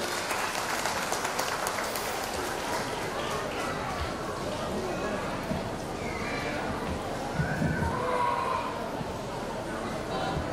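Audience applause for a speaker at an indoor talk, a dense continuous patter of many hands clapping at moderate loudness, mixed with crowd chatter and voices.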